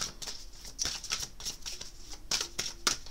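Oracle cards being shuffled and drawn from a deck, a quick series of soft papery riffles and flicks, close and quiet, in an irregular rhythm.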